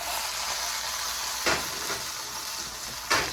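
A portobello mushroom burger fries in a pan with a steady, close hiss, broken by two short louder crackles or utensil taps, with no talk.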